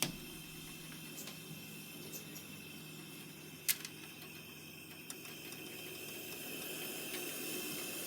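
A British Military #12 kerosene stove with a silent damper cap burning at low heat: a faint, steady hiss and low rumble, close by, with a few small ticks and clicks.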